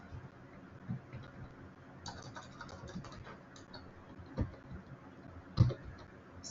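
Light, irregular clicking of a computer keyboard as code is typed for a LeetCode programming problem, soft and close, with a couple of sharper key taps and no talking.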